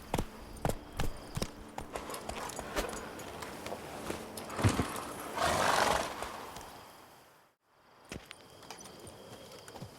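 Hoofbeats of Roach, Geralt's horse in The Witcher 3, running at a steady clip-clop, close and fairly loud, with a swell of noise midway and a brief drop to silence before the gallop resumes.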